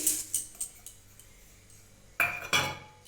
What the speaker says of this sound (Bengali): এখানে আমি একটা বড় বাটি নিয়েছি এতে চিড়েগুলো ঢেলে দিচ্ছি